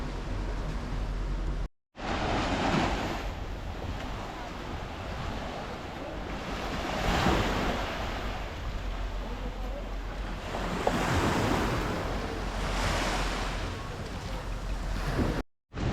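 Waves wash onto the beach at Porto Cristo, Mallorca, in slow rolling surges of broadband rushing hiss every few seconds, mixed with steady wind noise on the microphone and no talk.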